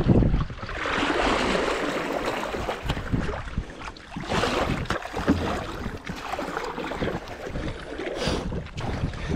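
Paddling strokes from a short, heavy, cheap plastic Walmart kayak on a 94-acre lake, a rhythmic series of splashy, rushing swishes repeating every few seconds, close and fairly loud, with wind buffeting the microphone.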